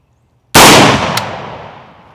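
A Kel-Tec PLR-16 pistol, fitted with a new extractor and spring, fires a single loud, sharp shot close by outdoors, with the report ringing out and fading over about a second and a half.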